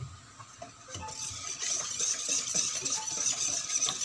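A kakanin rice-cake mixture being stirred with lye water in a bowl: a close, continuous swishing and scraping with light clinks of the utensil against the bowl, steady and moderately quiet, with no voices.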